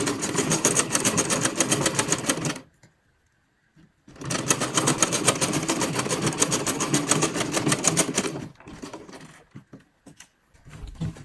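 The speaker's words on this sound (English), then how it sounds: "the next part I'm stitching now is the bottom part" A sewing machine stitches ankara fabric in two fast, steady runs separated by a brief silence, then gives a few faint clicks at the end, with no talking.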